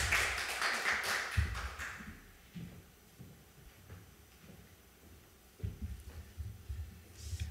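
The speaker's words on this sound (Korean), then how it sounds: "우리 박수 한번 합시다." During a Korean Sunday church service, the congregation bursts into a short round of dense clapping that dies away after about two seconds, leaving quiet room noise and soft knocks.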